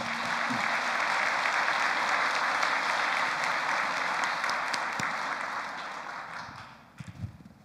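A congregation at a Sunday worship service claps in steady, dense applause that holds for several seconds before tapering off, a few last claps sounding at the end.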